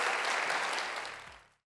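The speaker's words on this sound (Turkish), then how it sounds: "Alkışlarınız Profesör Doktor Aysel Gürler için." A seated audience claps for a professor taking the stage at a talk, a brief, steady burst of applause that fades out quickly to silence.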